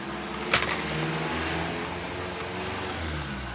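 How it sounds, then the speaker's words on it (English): A noisy van goes past outdoors, its engine a faint, steady mid-pitched rumble that swells gently and fades, with a brief sharp knock just after the start. "Noisy van."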